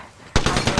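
Rapid automatic gunfire in a Fortnite or Apex Legends match bursts in abruptly, a loud close string of shots rattling for under half a second.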